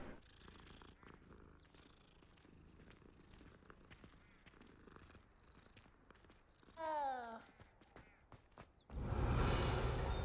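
Soft, close rhythmic purring of a kitten in Hogwarts Legacy, with a short meow-like squeal partway through, then a sudden loud whoosh at the end.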